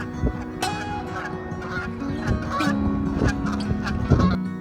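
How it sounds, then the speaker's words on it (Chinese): A flock of Canada geese honking repeatedly, overlapping calls from several birds close by, with a steady outdoor background, in Niagara Falls in October. "还邂逅了一大群加拿大鹅"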